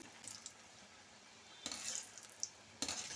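Gulab jamun dough balls frying in hot oil give a soft, continuous sizzle and bubbling hiss, with a few brighter crackles and splashes that come and go, close and fairly quiet.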